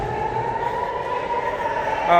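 An air raid siren wails steadily during rocket attacks, a loud sustained tone with a faint rising sweep, droning over street noise.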